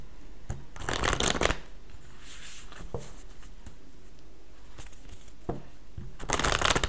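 A large deck of oracle cards is shuffled close up, with bursts of riffling and fluttering card noise at the start and end and softer slides and taps in between, no talking.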